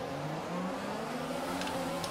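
Formula 1 race cars in the F1 2021 video game roar off the grid at a race start, a steady blended engine drone with rising revs and faint higher whines near the end.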